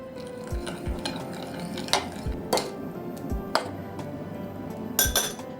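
Powdered sugar being stirred into strawberries in a bowl, with a spoon clinking against the dish in scattered light knocks and scraping strokes at a steady, unhurried pace, close and fairly quiet.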